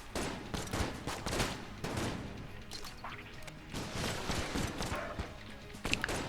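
Rapid gunfire in Enter the Gungeon, a dense, continuous patter of small shots and impacts with irregular louder pops, busy and close throughout over game background noise.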